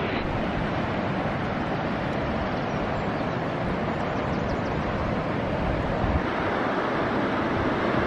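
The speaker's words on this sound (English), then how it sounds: "the other side of this bushy stuff, is actually the sea. We can hear it" Continuous distant surf rumbles and hisses steadily beyond bushes near the cliffs at Pentewan, Cornwall, a broad wash of waves on a shore with light wind, no voices.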